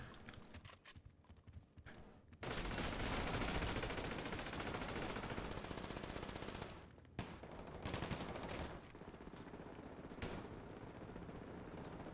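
Rapid automatic gunfire from a multiplayer shootout in GTA 5 Online, sustained dense bursts running almost continuously with brief gaps, loud and close, with no talking over it.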